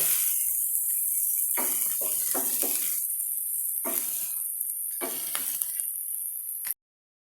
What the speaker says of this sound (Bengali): মরিচ এবং পেঁয়াজ দিয়ে ভালোভাবে নাড়াচাড়া করব